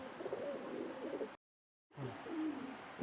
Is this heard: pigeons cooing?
yes